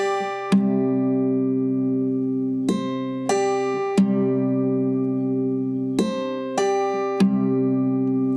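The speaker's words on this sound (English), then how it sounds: "that proximity effect can be a real negative when recording an acoustic guitar" Acoustic guitar strummed right up against the microphones, with boomy, bass-heavy chords ringing out in separate strokes and sustaining between them.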